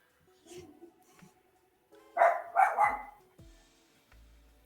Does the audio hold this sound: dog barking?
yes